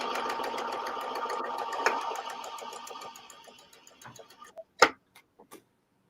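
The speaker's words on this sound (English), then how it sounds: "And then now I can sew the whole thing" A sewing machine stitches a seam in steady rapid ticking for about four seconds, then slows and stops with a few separate clicks and a louder clack; fairly quiet and close.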